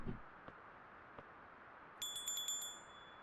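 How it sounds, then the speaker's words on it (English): A bright metallic bell in the video game FAR: Lone Sails rings about five quick times in a row after a couple of faint ticks, clear and alone over a quiet background. "That is a bell."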